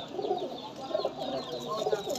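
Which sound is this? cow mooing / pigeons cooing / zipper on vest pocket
pigeons cooing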